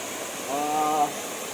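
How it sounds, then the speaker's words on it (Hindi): Steady broadband rush of the waterfall at Jalpari point in Mainpat, a continuous close wash of falling water, with a brief tonal voice-like sound rising over it midway. "आप आवाज़ से पहले इस झरना की आवाज़ सुनिए"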